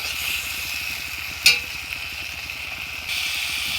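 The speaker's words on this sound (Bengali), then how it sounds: "আমি এবার না ডেকে আরও 5 মিনিট এভাবে নাড়াচাড়া করে নেব।" Fish curry sizzles in a frying pan while being stirred, a constant close hiss with a low rhythmic hum underneath and one sharp scrape or clack near the middle.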